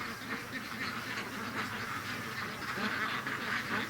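Ducks being raised outdoors quack continuously, a busy overlapping flock close by with a steady chorus of calls throughout.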